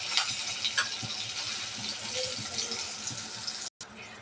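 Water running from a kitchen tap in a steady, broadband splashing rush, moderately loud and continuous, with a brief cut near the end.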